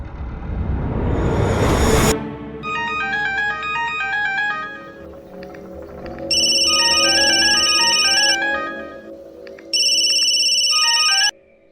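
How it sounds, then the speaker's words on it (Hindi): A loud electronic phone ringtone plays a repeating melody in bursts with short pauses between rings, no talking. "ये वरुण भी फोन नहीं उठा रहा है।"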